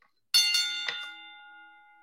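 A boxing-style bell rings once with a sharp metallic strike and a second quick hit, then a long ringing decay fading over about a second and a half, alone and clear.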